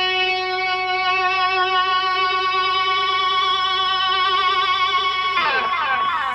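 Sustained electric guitar feedback from a Sustainiac sustainer at low volume, a held, wavering tone that swells steadily before breaking into a bright, jangling strum near the end.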